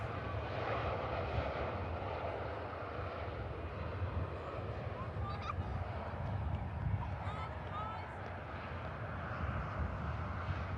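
An airliner touches down fast at Manchester Airport, its engines a steady, fairly distant broadband roar with a low rumble holding evenly throughout, and no voices over it.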